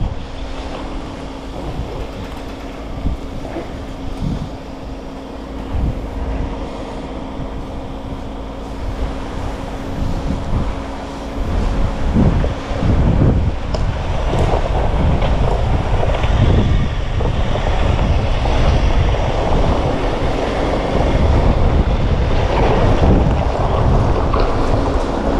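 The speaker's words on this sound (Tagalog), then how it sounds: "Uy, ang lalakas ng hangin." Strong wind buffets the microphone outdoors at a building project, a constant rushing roar that grows louder and gustier in the second half.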